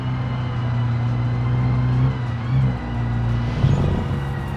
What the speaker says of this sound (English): You hear that turbo when we're barely even into throttle right now.